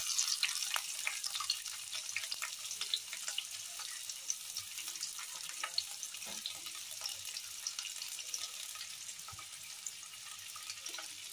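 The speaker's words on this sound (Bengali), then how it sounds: "এবার প্রথমেই আমি পেঁয়াজগুলো দিয়ে দিচ্ছি।" Onions sizzling in mustard oil in a pan, a faint, even hiss throughout with a few light clicks of stirring, no talking.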